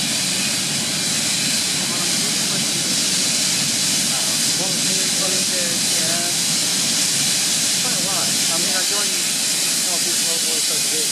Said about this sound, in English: The right-hand front cylinder cock is the steam coming out the wrong place.